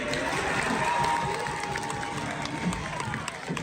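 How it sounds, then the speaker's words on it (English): A cinema audience at a Minecraft movie screening applauds and cheers in a dense, steady wash of clapping and shouts that fills the room without pause. "there was not only applause, but sometimes literal standing ovations"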